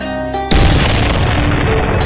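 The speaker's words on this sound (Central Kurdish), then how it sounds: "تۆپی بەربانگ سەردەمانێک وەک نەریتێک لە زۆربەی وڵاتانی ئیسلامی لە کاتی بەربانگ بۆ" An old iftar cannon in Rawanduz fires once at Ramadan sunset, a single loud, deep boom that rolls into a long, dense rumble and echo.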